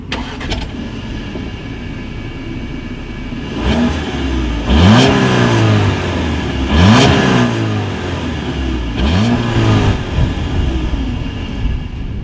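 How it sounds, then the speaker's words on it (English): Audi A4 with dual exhaust and chrome tips revving from idle in three or four rising blips spaced a couple of seconds apart, each falling back to a steady idle, recorded close up with no talking. "As always, here is that exhaust clip."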